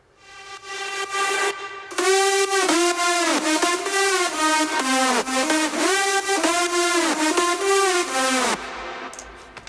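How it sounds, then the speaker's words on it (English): Layered synth lead for the drop of a song remake: bright, heavily processed stacked synth tones with swooping pitch bends, playing a loud rhythmic phrase alone before cutting off. "So all together, the drop lead sounds like this."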